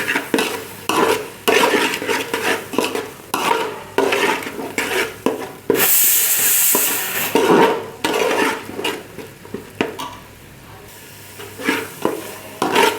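A spoon scrapes and stirs chili powder and garam masala through frying oil in a pot for mutton curry, repeated rhythmic scraping strokes over a soft sizzle, with occasional metal clinks against the pot.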